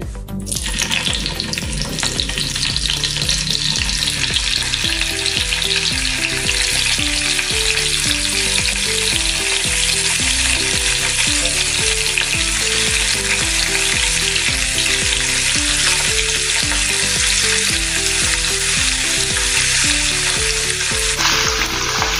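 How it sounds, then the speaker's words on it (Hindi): Paneer frying in well-heated oil in a pan, a loud, continuous close sizzle and crackle that holds steady throughout, with faint stirring, no talking. "अभी पनीर हम इसमें डालकर तल लेंगे तेल में।"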